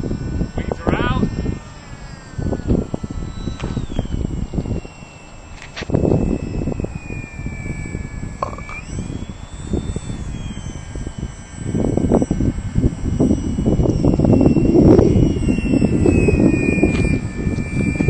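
A Depron foam F-14 radio-controlled model jet comes in to land, its motor whining steadily with shifting pitch as it approaches, while a person talks over it throughout.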